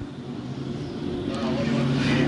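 Hobby stock cars racing door to door on a dirt track during a USRA Nationals main event, engines droning steadily and building slightly, with an announcer talking over them.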